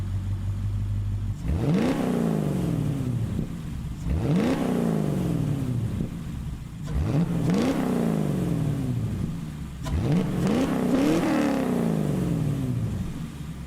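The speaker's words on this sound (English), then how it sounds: "I just want you to listen to one of the best sounding V8s in Gran Turismo 7" The V8 of an original Mercedes-AMG C63, rear-wheel drive, in Gran Turismo 7 revs hard four times in a row, each rise sweeping up then dropping back, loud and near with no talk.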